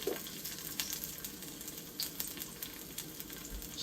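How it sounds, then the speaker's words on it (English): Chopped ginger and garlic stir-fry in peanut oil in a wok, giving a steady bright sizzle with light scraping stirs, close by and without speech. "So give these aromatics a quick stir fry."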